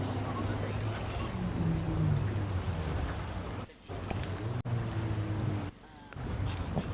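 Steady breezy wind buffets the microphone at an outdoor water racing event, a constant rumbling roar with brief dips, and speech blends into the noise.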